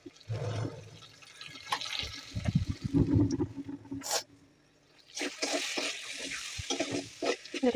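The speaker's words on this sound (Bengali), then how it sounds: "এখন একটু এগুলোকে ভালো করে মশলার সাথে ভেজে নেব।" Masoor dal with spices for khichuri sizzles and fries in a pan, with bursts of scraping and stirring that pause for a quiet moment midway before the frying picks up again.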